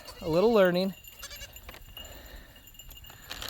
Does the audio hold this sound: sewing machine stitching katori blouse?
no